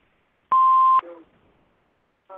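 A loud, steady tone of about half a second sounds from a telephone answering machine just after its greeting, then a few short, fainter electronic chirps follow.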